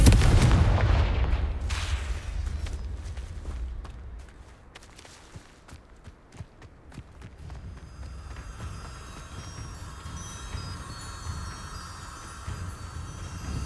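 Spell blasts from the Confringo explosive fire spell in Hogwarts Legacy, a loud burst at the start followed by a string of sharp booming hits and crackling impacts, with fiery rumble lingering beneath.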